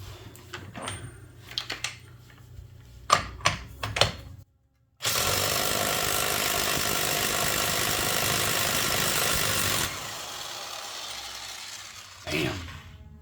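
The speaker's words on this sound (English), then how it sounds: "I've got my Chicago Electric drill, and I just hope it's got enough power to back that axle nut off." A Chicago Electric impact drill hammers at an axle nut during a rear wheel bearing job on a 2008 Chrysler Sebring AWD, a loud steady rattling burst of about five seconds after some clanks and knocks.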